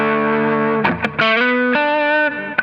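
Electric guitar run through a compressor, a booster and an MXR M300 reverb pedal, ringing out a few sustained chords and notes with a slight reverb tail, close and clear with no talking.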